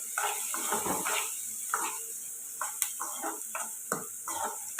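Onions frying in a pan for an egg curry, heard as a close, continuous sizzle with intermittent scraping and stirring clatter from a utensil against the pan.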